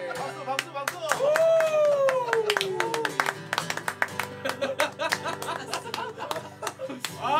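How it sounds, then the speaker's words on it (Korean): A small group at a weekly worship live stream claps in sharp, irregular bursts, with a whooping voice, chuckles and lively talk mixed in nearby. "박수, 박수, 박수!"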